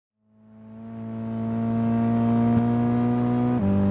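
A Mine's Lancer Evolution racing car engine in Gran Turismo idles with a steady, deep harmonic hum that gradually swells louder, with a brief blip of revving near the end.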